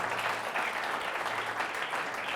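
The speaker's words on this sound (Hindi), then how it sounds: "बजा सकते हैं आप ताली" Steady, dense applause from an audience at a church revival meeting, continuous and fairly loud throughout with no voices over it.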